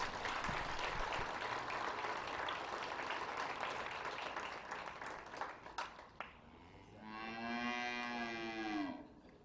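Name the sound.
audience applause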